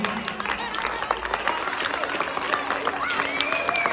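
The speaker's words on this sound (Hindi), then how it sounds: "तो आपकी जोरदार तालियां इन तमाम मेहंदी असातिज़ा के लिए।" Audience applause at a school Republic Day event in India, a crowd clapping steadily with scattered cheers and some voices, moderately loud and sustained under the hall's noise.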